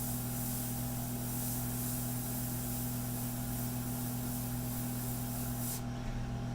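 An airbrush sprays India ink, a continuous even hiss with a steady compressor hum underneath, running unbroken before cutting off sharply near the end.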